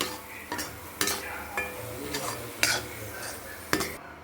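Milk cake mixture cooked with ghee is stirred in a pan, a utensil scraping in regular strokes about every half second, with a soft sizzle beneath, close and steady with no talking.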